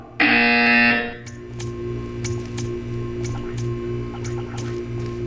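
In the Portal 2 video game, a harsh electronic buzzer blares loudly for about a second, then gives way to a humming test chamber with faint periodic clicks.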